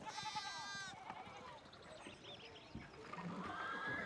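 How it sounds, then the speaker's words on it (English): A horse in the video game Pentiment gives a loud, clear whinny that lasts about a second. Fainter game ambience and hoof-like clatter follow, with no talking. "This man is poking a horse in the throat."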